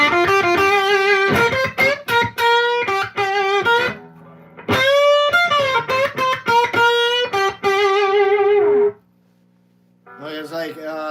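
Electric guitar through an amp with a hot-rodded Fender Tweed Harvard and Plexi-style tone, played clean and dry in loud chordal bursts and sustained notes with short gaps, ending in a quieter phrase.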